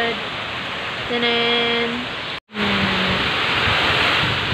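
Heavy rain from Typhoon Ulysses pours down as a loud, steady hiss that fills the whole scene, briefly cut off for an instant, with a short voice heard beneath it.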